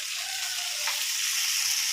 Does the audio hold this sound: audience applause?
no